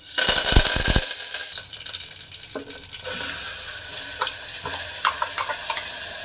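Mustard seeds spluttering in hot oil in a pressure cooker for tempering, with a loud crackling burst early on, then quieter steady sizzling broken by a few sharp pops and clinks.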